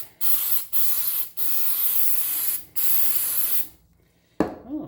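A can of cleaner sprays into a car's throttle body in several hissing bursts, close by, with short pauses between, then quiet and a brief clatter at the end.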